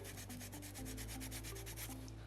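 Sandpaper rubbed over a soapstone carving of a small orca, quick rhythmic back-and-forth scratching strokes, close and steady with no talking.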